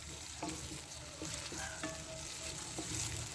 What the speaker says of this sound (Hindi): सारा मसाला थोड़ा सा इसको घी में पका के